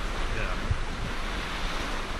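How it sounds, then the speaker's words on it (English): Morning surf rolls steadily onto Wineglass Beach, Tasmania, on the Freycinet Peninsula, a constant wash of waves mixed with gusty wind buffeting the microphone. "I'm just walking on Wineglass Beach in the morning"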